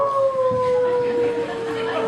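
A voice imitates a dog's howl: one long, steady wail that slowly slides downward in pitch, sustained without a break.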